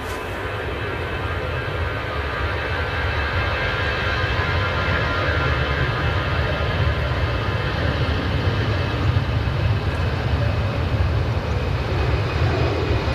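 A steady, loud jet engine roar of an EasyJet airliner departing Manchester Airport for Paris, a sustained broadband rumble that holds evenly with no voices.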